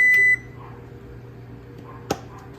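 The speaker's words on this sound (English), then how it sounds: "my oven's ready" A home oven gives a short electronic beep at the start to signal it is preheated, followed by quiet kitchen room tone with a small click.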